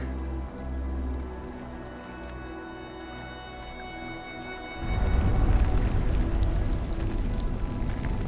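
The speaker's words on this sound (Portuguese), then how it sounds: "Talvez vocês escutem o barulho da chuva aqui atrás, tá?" Rain falls outside, a soft steady hiss that swells noticeably louder partway through and keeps pattering on, with no voices present.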